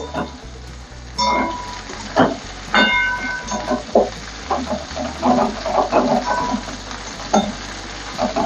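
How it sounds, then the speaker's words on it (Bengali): Vegetable stems and pieces fry in a pan while being stirred, giving a continuous close sizzle with repeated clacks and scrapes of a spoon against the pan, and no talking. "একই সঙ্গে আমি এর সঙ্গে নাড়িয়ে নেব।"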